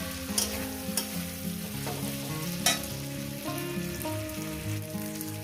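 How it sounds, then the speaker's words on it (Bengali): Mourala fish and potatoes sautéing over medium heat in a pan, a steady soft sizzle with occasional stirring clinks, faint and continuous under quiet background music. "এক থেকে দেড় মিনিট এটাকে কষিয়ে নেবো"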